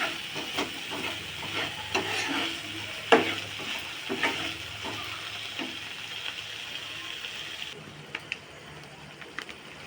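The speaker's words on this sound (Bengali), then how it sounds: "দিয়ে দেবো লবণ, দিয়ে দেবো হলুদ, এবার ভালো করে আবার নাড়িয়ে চাড়িয়ে নেব।" A spiced mustard masala for tilapia fish curry, with salt and turmeric added, sizzles in a pan while being stirred, giving soft steady frying hiss punctuated by scraping clinks of a spoon.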